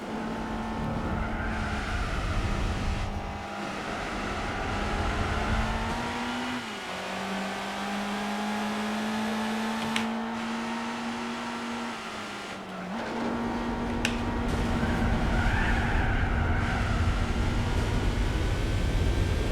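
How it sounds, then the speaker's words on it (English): Race car engine in Gran Turismo 4 holding a high steady drone with pitch dips at gear shifts or slides, plus brief tyre scrubs as the rear slides around, loud and continuous with no talking. "The rear of this car really is sliding all over the place."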